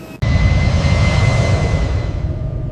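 An airplane engine roars in flight in a story animation, a loud steady drone that starts abruptly after a brief silence and holds level, slowly easing off slightly.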